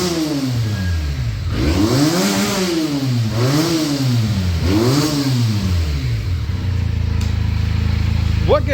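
A Benelli 300i motorcycle with its stock exhaust, revved repeatedly up and down in loud, close rising-and-falling sweeps, then settling to a steady deep idle.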